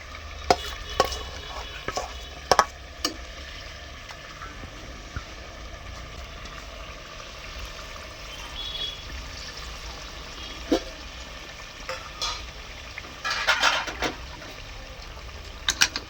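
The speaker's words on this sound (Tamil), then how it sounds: "நம்ம ஹை ஃப்ளேமில் வச்சு நல்லா பரட்டி எடுத்துக்குவோம். இது கூடவே நம்ம இந்த அரைச்ச மசாலா இருக்குது இல்லைங்களா, இந்த அரைச்ச மசாலாவை நம்ம ஊற்றிடலாம்." Ground masala is stir-fried in a pan over a high flame for a Madurai-style salna, making a low, continuous sizzle broken by sharp scrapes and clatters of the spoon, with no talking.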